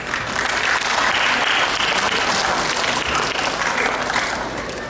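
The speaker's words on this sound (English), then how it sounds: "Another round of applause." A large crowd claps steadily at a Diwali festival mela, dense and loud applause holding for about five seconds without pause.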